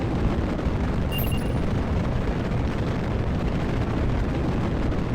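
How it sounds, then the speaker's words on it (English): Solid rocket motors firing in the video game Kerbal Space Program, a dense, loud, unbroken roar with steady rumbling power and no variation, heard alone without talk. "these are solid rocket motors. I have zero control over them. I cannot shut them down."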